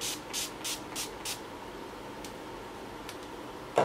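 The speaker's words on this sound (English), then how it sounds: "So now I'm gonna get my Urban Decay all-nighter setting spray." Urban Decay All Nighter setting spray misted onto a face in five quick hissing puffs, then a couple of fainter spritzes, quiet and close with no talk.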